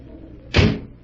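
A door onto a terrace is swung open with a single soft, close thump and a brief rush of air, alone in a quiet room.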